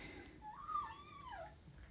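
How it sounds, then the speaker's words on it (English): Puppies play-fighting on a chair let out a faint, rising and falling whimpering yelp, soft and brief over quiet room noise. "That's the puppies beating themselves up on the other chair."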